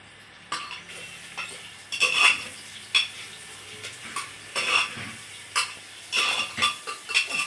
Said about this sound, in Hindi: अब प्याज पका रहे हैं